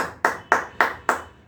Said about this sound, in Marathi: आपण सर्वजण तिचं टाळ्या वाजून कौतुक करूया